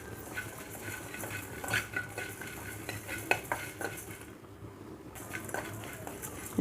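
Whole spices for chicken curry are dry roasted in a pan with repeated scraping and clinking stirs of a spoon against the metal, a faint sizzle underneath, close up and without talking.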